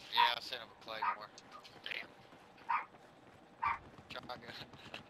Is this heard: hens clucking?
no